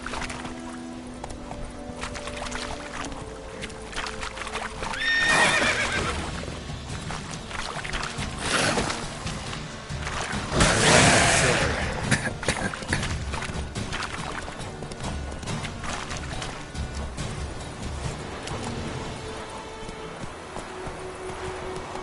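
Roach, the horse in the video game The Witcher, gallops with steady clip-clopping hoofbeats under game music and ambience, with a louder burst of movement near the middle.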